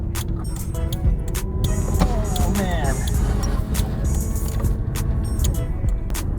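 Toyota Celica driving around the block, engine and road noise steady and close inside the cabin with scattered clicks and rattles, and someone speaking briefly.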